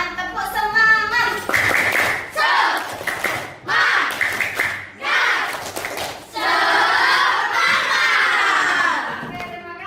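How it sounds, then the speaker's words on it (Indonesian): An Indonesian school class repeats the 'tepuk semangat' clapping chant, with patterned claps, taps and excited children's shouting in loud, close bursts separated by short gaps. "Lagi dong biar semangat. Tepuk semangat."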